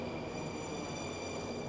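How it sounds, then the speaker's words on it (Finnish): A metro train arrives at a station with a steady, loud roar and high metallic whine from the wheels and motors that fill the whole moment without pause. "sieltä tulee meitin juna."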